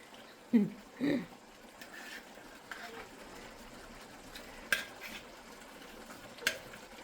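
Refried beans from a can being stirred in a hot pan, heard as a few distinct spoon clanks and soft thuds spread over a quiet, low background hiss.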